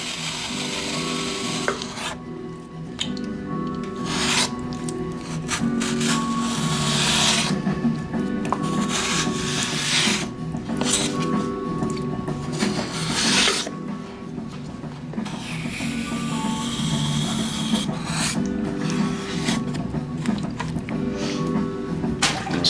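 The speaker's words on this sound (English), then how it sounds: "I'll just take this trim tool here. Okay, I see that. And go back here and cut off the excess that I'm not using." Trim tool scraping and cutting excess clay from a piece of pottery, giving a continuous rough rasping and rubbing texture with short taps, close up and steady with no talk.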